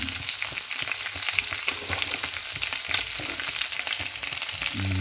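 Garlic frying in a pan for ginataang tulingan, a fish dish simmered in coconut milk: a steady, close, crackling sizzle with soft stirring, continuous and without voices.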